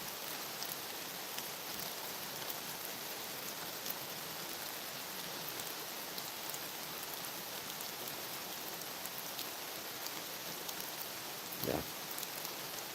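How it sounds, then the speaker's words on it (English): Light rain falls outdoors in misty woods near a river at Honobia, making a soft steady patter with faint hiss and no voices. "it's just nice and misty, and rainy"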